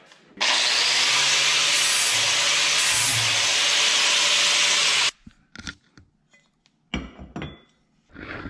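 A power grinder takes metal off a mower blade to balance it, a loud, continuous abrasive whir for several seconds that then cuts off, followed by scattered clinks and handling noises up close.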